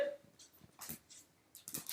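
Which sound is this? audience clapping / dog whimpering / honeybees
dog whimpering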